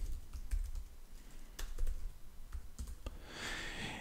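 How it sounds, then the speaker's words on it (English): Typing on a computer keyboard, with irregular bursts of soft, close key clicks at a steady pace and no talking. "So I'm going to type some comments here."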